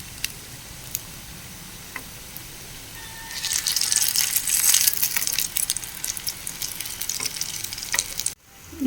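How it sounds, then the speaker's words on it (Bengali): Pointed gourd fritters (potol bora) frying in oil, a quiet sizzle that swells into a loud, bubbling crackle partway through and stays strong to the end. "এবার এগুলোকে একটু ভেজে নেব।"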